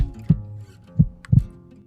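A pounding heartbeat sound effect in an animated story, three deep muffled thumps at an uneven pace over a low hum, close and prominent, with no talking.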